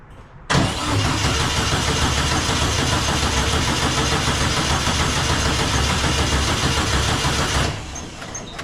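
A 1956 Volkswagen Beetle engine cranking over and trying to start on old gasoline, a loud continuous starter churn lasting about seven seconds before cutting off, heard close up without speech.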